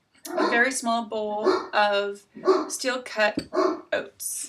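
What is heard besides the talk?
dogs barking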